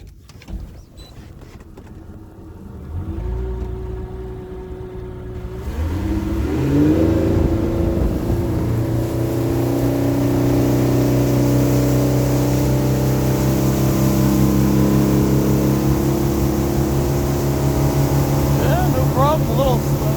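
A 2006 25-foot Sea Ray Amberjack with a Suzuki DF300 outboard on a bracket conversion throttles up, the engine note climbing from a low idle to a loud, sustained roar under way, with voices over it.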